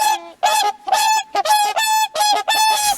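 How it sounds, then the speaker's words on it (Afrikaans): A swan gives loud, honking calls close by, about eight nasal trumpet-like notes in quick irregular succession with brief gaps. "C is 'n swaan."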